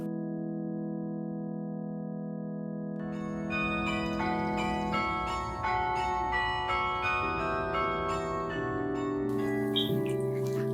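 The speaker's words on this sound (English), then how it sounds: "the clapper hits the bell, and that's how it rings" Carillon bells in a chapel, struck by moving clappers while the bells stay fixed, ring out a sustained sequence of overlapping tones that build into a dense, resonant peal.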